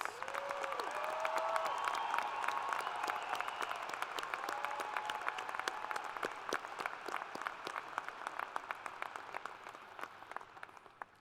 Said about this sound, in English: Everyone, a round of applause for all of our graduates.